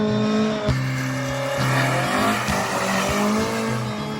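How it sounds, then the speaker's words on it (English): A classic Ford rally car spins donuts on a mountain road, engine revving hard in pulsing bursts with tires squealing continuously, close and loud. "There's some donuts coming."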